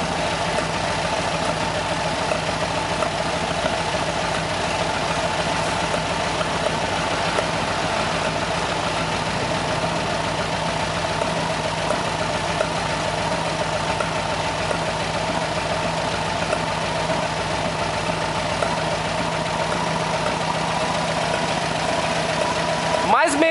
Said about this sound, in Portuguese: O motor agora tá girando a aproximadamente 790 a 800 RPM.